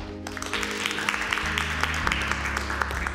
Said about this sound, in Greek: Χειροκρότημα θα βάλουμε.